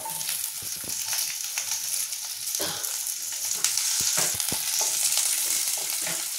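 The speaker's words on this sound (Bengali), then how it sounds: "এর মধ্যে আমি দিয়ে দেবো ক্যাপসিকামটা, একটুখানি টস করে নেবো আমি" Capsicum and onion hiss and sizzle in a hot pan while being tossed and stirred, a dense continuous frying crackle broken by soft scraping and knocking of the spatula, close and fairly loud with no talking.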